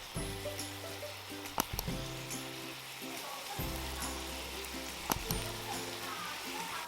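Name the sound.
minced garlic frying in oil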